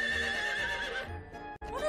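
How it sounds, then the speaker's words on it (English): A horse neighs and whinnies in a long, wavering call, loud and close, ending with a shorter rising whinny after a brief break. "A horse neighs."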